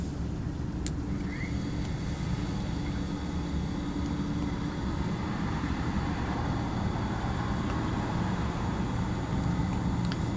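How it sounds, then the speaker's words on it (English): A small pump runs steadily, recirculating beer through a fermenter during dry hopping, its low hum and motor whine holding at a constant level throughout with no talk. "when I hit the power button here, the pump will start running"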